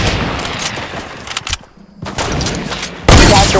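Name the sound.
gunfire in Fortnite video game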